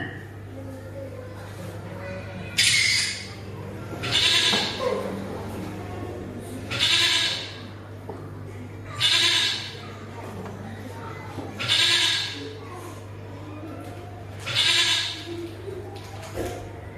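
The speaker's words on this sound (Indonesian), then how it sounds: "Domba. Domba." Sheep bleat in a series of about six separate calls spaced a few seconds apart, loud and near over a steady low hum, with no other sound between them.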